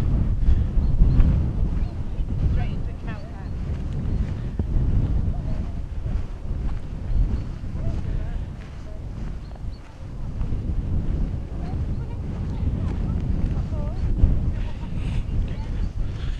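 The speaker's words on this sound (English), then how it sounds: "Back into the wind again." Strong gusting wind buffets the microphone at an Iron Age hill fort, a continuous loud low roar rising and falling in waves throughout, with no other clear sounds.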